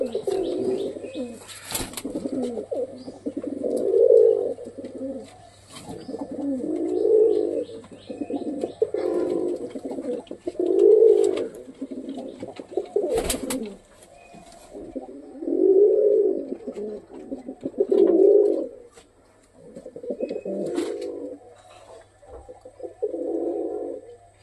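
Pet pigeons in a rooftop loft, including Geribaz birds, give repeated throaty coos in close, rhythmic bursts every second or two, with faint chirps between them.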